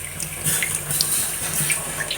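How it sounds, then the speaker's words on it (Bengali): Tap water runs steadily into a kitchen sink while dishes are washed, a close, constant splashing stream with light clinks and drips mixed in. "দেখুন কত বাসন জড়ো হয়েছে, সব ধুয়ে ফেলবো।"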